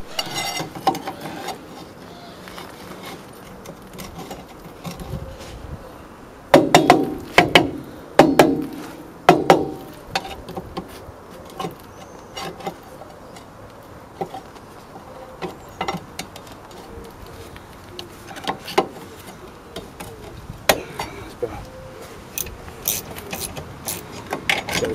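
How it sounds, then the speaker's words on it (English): Metal-on-metal clanks and scrapes as a pry bar works the brake shoes on a 2015 Ford Focus MK3.5 1.5 TDCi, with a loud burst of knocks early on, then scattered sharp taps and scrapes at close range. "Time for a bit of a pry bar."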